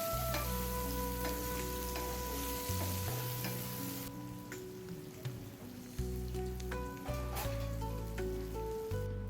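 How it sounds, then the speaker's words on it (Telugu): Onion pieces sizzle and crackle steadily as they fry in hot oil for a Telugu mushroom masala, with a few stirring clatters and a low hum underneath. "ఈ ఆనియన్ ముక్కలన్నిటిని ఆయిల్లో బాగా ఎర్రగా వేయించుకోవాలి"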